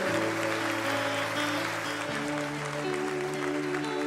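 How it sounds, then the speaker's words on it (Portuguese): A church congregation applauding during a worship service, a diffuse wash of clapping beneath sustained organ or keyboard tones that carry through the whole stretch. "Você pode aplaudir ao Senhor."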